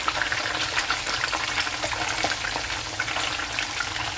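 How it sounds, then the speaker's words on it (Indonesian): Tofu fries in hot oil with a continuous loud, dense sizzle and crackle from start to finish, close by, with no voices. "Kalau minyaknya udah panas, tuh kayak gini, baru kita goreng tahunya."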